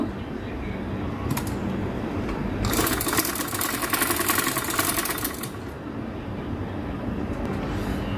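A sewing machine runs steadily while stitching along a garment's neckline, a close, continuous mechanical whir that grows louder and faster in the middle stretch before easing back.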